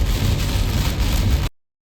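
Heavy rain drums loudly and steadily on a car during a highway drive back to Hyderabad, a close, continuous roar that cuts off abruptly after about a second and a half.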